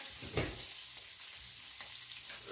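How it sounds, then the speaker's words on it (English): Thick-cut bacon strips sautéing in a pan, a soft, steady sizzle with a few light stirring scrapes, quiet and close with no talking. "So we're just going to saute this."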